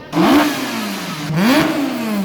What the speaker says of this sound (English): An interesting engine. Huge engine of the Fiat 500.